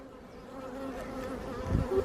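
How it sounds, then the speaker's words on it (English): A bee buzzes close by, a steady droning hum that swells louder toward the end as it moves nearer, with no talking over it. "What are you doing, bee? Can you see this bee?"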